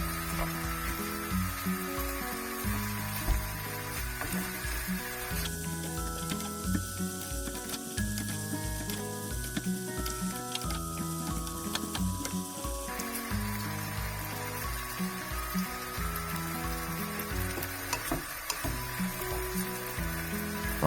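Chicken and ginger stir-frying in a pan with sugar and MSG, a steady sizzle with stirring clatter running under loud tonal background music throughout.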